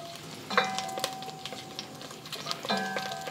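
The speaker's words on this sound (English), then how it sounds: "I'm just going to stir fry this for a couple of minutes" Ginger and green onion stir-frying in vegetable oil over medium heat, a soft sizzle broken by sharp clinks and scrapes of a utensil against the pan, close and irregular.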